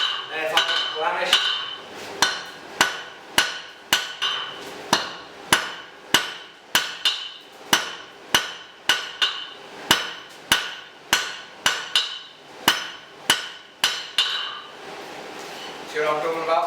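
Rhythmic hammer blows ring out on hot metal over an anvil during blacksmith forging, about twenty sharp metallic strikes in steady succession, loud and close, with a brief pause near the end.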